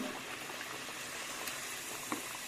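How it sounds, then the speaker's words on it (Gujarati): Vadas of urad and wheat flour frying in hot oil, giving a steady soft sizzle and bubbling throughout, with a brief louder pop near the end and no talking. "તેલ ગરમ થઈ ગયું છે તો આપણે તરવા માંડીએ વડાને"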